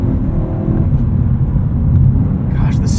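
A BMW E92 M3 Lime Rock Edition with a 6-speed manual accelerates, its engine a loud, continuous rumble heard from inside the cabin, with road and wind noise throughout.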